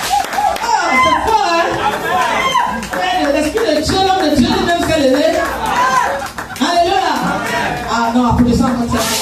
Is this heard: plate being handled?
no